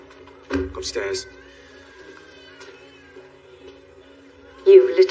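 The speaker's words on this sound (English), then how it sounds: "Cats." Cats meowing in a medieval fantasy city scene, a couple of short cries near the start and another near the end, with quiet room tone between.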